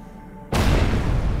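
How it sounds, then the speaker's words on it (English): A remote bomb explodes in the video game Secret World Legends, a sudden loud, deep blast after a quiet moment, followed by a sustained rumbling roar. "place a remote bomb down"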